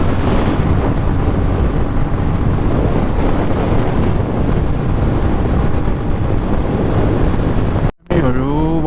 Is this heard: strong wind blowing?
yes